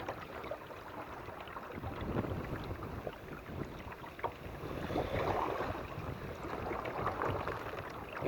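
Wind buffets the microphone in a low, uneven roar during a kayak outing on open water, with gusts swelling and easing and faint water splashing beneath.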